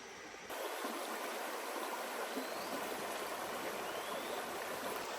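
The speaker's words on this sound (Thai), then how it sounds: "น้ำตกเย็นไหลสวยมากๆ" Forest stream and waterfall rushing steadily in the jungle, a continuous loud broadband wash of flowing water that swells after a brief quieter opening and then holds without a break.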